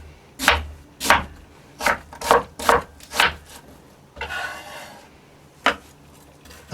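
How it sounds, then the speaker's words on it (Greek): A knife chops through two large eggplants on a board, six sharp, evenly spaced thuds close by, then a brief rasping slide and one final cut. "Θα κόψω 2 μεγάλα γκραμμίδια στη μέση και μετά σε φέτες."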